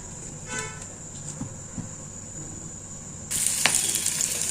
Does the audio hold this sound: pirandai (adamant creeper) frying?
yes